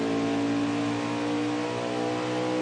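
A race car engine in a virtual stock car racing series at Gateway drones at steady high revs, loud and continuous with a sustained whine and no talk over it.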